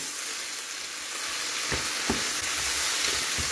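Food cooking in a TM6 Thermomix during a salmon pizza recipe, with chives just added and stirred in: a steady, even broadband sizzle with a few soft knocks near the end, no voices.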